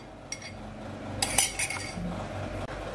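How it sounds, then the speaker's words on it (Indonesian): Cake batter for a baked coconut milk sponge is stirred in a bowl, with a spoon clinking against the sides in a few scattered taps and scrapes over a low steady background. "saya aduk sampai setengah rata dulu seperti ini"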